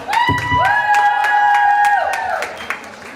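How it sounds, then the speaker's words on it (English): At the Regent Park Cafe launch party, a crowd cheers and claps, with loud sustained whoops and a high whistle rising over scattered handclaps before fading after about three seconds. "One warm round of applause for you all."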